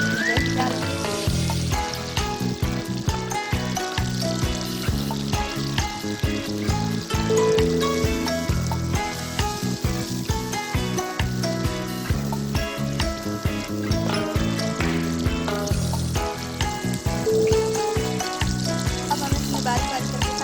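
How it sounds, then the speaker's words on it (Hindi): Chicken karahi sizzling and frying loudly on a high flame as yogurt is poured in, a dense continuous crackle with splattering pops and occasional clanks throughout. "अब हम इसमें दही डालेंगे।"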